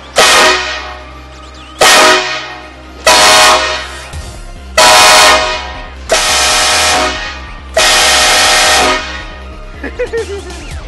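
Train horns mounted on a heavy tow truck blast in six long, very loud bursts of a few seconds each, separated by short gaps, with a few faint voices and tail noise at the end.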